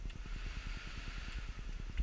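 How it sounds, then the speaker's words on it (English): A Volvo 1800's air conditioning fan hums steadily with a fast, even pulsing rhythm, continuous and fairly quiet, without voices. "You can hear the fan running right now."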